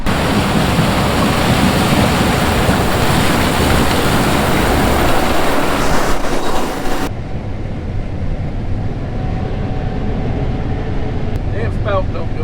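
A Gleaner combine harvester running during a ride in the cab, a loud, dense, continuous engine and machinery roar that holds steady throughout, with the upper hiss dropping away partway through.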